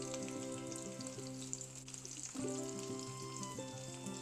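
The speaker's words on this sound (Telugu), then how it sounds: "ఇప్పుడు మనం వీటిని డీప్ ఫ్రై చేసుకోవాలి. ఒక్కొక్కటి విడివిడిగా నూనెలో వేసుకోవాలి" Coated cauliflower pieces for Gobi 65 deep frying in hot oil give off a steady, dense sizzle that runs unbroken through the clip, with background music playing underneath.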